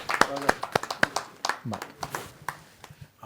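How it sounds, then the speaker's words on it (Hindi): Scattered hand claps at a poetry gathering on stage, sparse and uneven rather than a full ovation, with talk running over them. "जा जोरदार ताली के साथ उनका स्वागत करें।"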